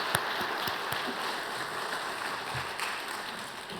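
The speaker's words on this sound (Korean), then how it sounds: "환영하는 박수로 우리 축복하도록 하겠습니다" A church audience at a New Year prayer breakfast claps in welcome, a dense, steady wash of applause from many hands that fills the room, with no talk over it.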